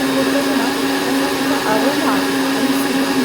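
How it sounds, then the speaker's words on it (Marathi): An electric mixer grinder whirs steadily, loud and close, as it grinds roasted whole spices into fine powder for masala tea. "छान असा बारीक फाईन पावडर तोपर्यंत हा मिक्सरला फिरवून घ्यायचा आहे"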